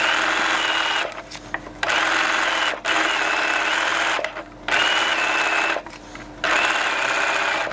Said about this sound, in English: This is the underarm, and I'm sewing at 5/8 of an inch.